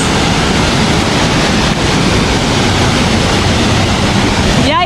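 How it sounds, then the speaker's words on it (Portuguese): A waterfall at Chapada dos Guimarães in Mato Grosso, Brazil, roars with a steady, loud, dense wash of falling water that fills the whole clip, with no pauses or changes. "Uma cachoeira inteira só pra nós"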